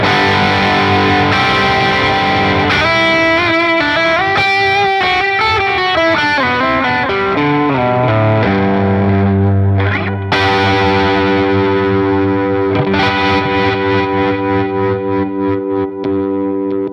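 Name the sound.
electric guitar through Friedman BE-100 Deluxe amp with drive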